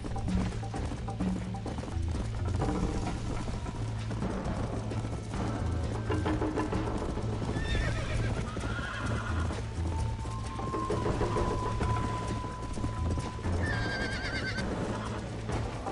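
Horse hooves gallop in a steady clip-clop rhythm with repeated whinnies and neighs in the Red Dead Redemption video game, set against a dense, continuous bed of game sound.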